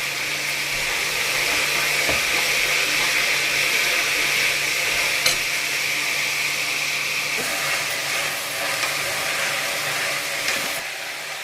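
A tomato goes into a hot tempering for a field bean, potato and brinjal sambar, giving a steady, loud broadband hiss of sizzling that holds for the whole stretch, with a few faint clicks and no voices.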